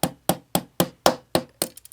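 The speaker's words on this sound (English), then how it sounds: "we're just going to lightly hammer this out" A hammer taps a 3/32 punch to drive out a pin from a Ruger Security-9 pistol on a bench block. Seven evenly spaced, sharp metallic knocks sound close up, ending in a few quicker, lighter taps.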